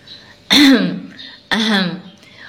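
Someone clears their throat twice, about a second apart, close and loud, with quiet between.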